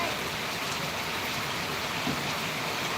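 Heavy rain pours steadily outdoors, a dense, continuous hiss that holds loud and even for the whole stretch with no voices over it.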